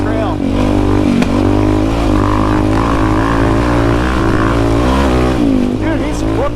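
A loud, raspy off-road vehicle engine pulls hard along a trail, its pitch rising and falling as it revs, heard up close throughout with a voice talking over it.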